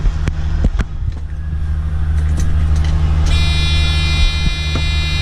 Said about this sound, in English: If I switch the lorry ignition on